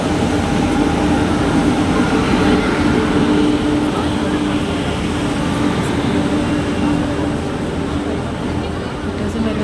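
A train at a railway platform gives a continuous, loud, even rumble and hum that stays steady throughout, with only faint, brief higher clicks on top.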